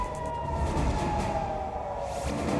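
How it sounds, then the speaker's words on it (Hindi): A steady wailing air-raid siren in Israel during the Israel–Iran conflict holds one high tone across the whole stretch, loud and continuous over a rumbling background. "सायरन की आवाज सुनकर भागे लोग।"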